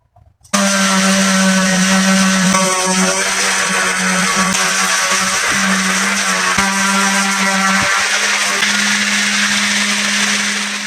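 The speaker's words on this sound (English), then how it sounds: "started the sanding process" A power sander whines loudly and steadily at close range on wood for camper van overhead cabinets, a continuous motor drone with brief dips and a few knocks, no talking.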